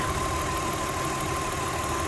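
A misfiring car engine idles roughly near the listener, producing a continuous low rumble with irregular knocking and a faint steady whine on top, heard alone.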